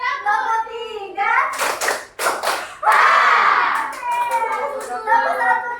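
Children in a Year 4 Indonesian classroom play the 'tepuk 1, 2, 3' clapping game, with several sharp bursts of hand claps broken up by kids' voices chanting and talking.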